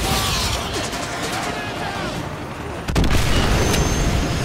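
A missile strikes an enemy helicopter in Call of Duty: Modern Warfare 2, a sudden sharp explosive boom breaking through steady rumbling battle noise, followed by louder lingering roar.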